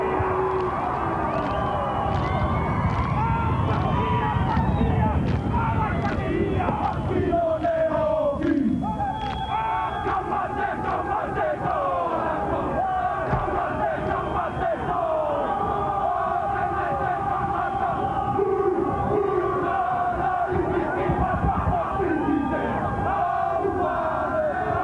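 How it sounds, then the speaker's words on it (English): Rugby league players of the Kiwis perform a haka war chant before a 1996 New Zealand versus Papua New Guinea match in Rotorua, with rhythmic shouted voices in unison carrying loud over a continuous stadium crowd roar throughout. "The haka about to happen."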